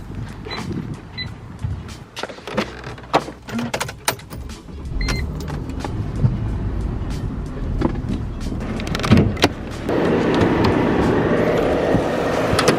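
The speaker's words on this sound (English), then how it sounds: "I'm gonna go ahead and pull that Mercedes over here so we can jump start it" A Mercedes car is moved into position for a jump start, with creaks, door and body clunks, then a steady engine drone rising near the end, sounding close by.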